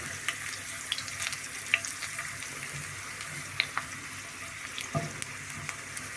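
Garlic fries in oil in a pan as it flavours the oil for a festive shrimp salad, a quiet continuous sizzle with scattered small pops and a soft clink near the end, without talk.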